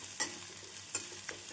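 Soft sizzling of onions and tomatoes sautéing in a pan for brinjal tamarind curry, with a few brief stirring scrapes, quiet and close, no talking.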